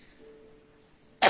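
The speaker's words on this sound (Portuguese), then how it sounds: "vocês desculpem que essa tosse está danada, mas estou cuidando" A single short, sharp cough bursts out loudly at the end after a quiet stretch, from a woman with a persistent cough during a Facebook live broadcast.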